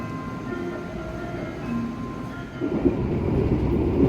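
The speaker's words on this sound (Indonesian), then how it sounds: "Menikmati sisa-sisa perjalanan kereta api Harina ya" A Harina economy passenger train rolls along the rails with a steady rumble and soft rhythmic clatter heard from inside the carriage, growing slightly louder toward the end, with no voices.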